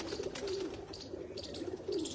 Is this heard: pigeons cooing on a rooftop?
yes